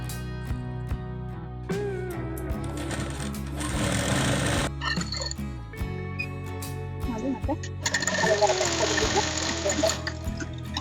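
A sewing machine stitches a plain blouse with a steady, close mechanical whir. The running comes in bursts separated by short pauses, with light clicks and rattles and no speech.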